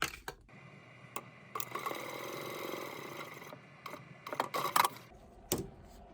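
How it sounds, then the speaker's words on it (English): A sewing machine stitches along the edge of a clutch at a quarter-inch seam, a steady whir of about two seconds framed by scattered clicks and handling taps, close and fairly quiet. "we are going to stitch along this edge at a 1/4 inch seam allowance"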